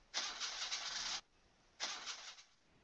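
In the video game Mermaid Swamp, a car engine cranks in two separate bursts of about a second each without catching, a harsh grinding whir with a quiet gap between attempts.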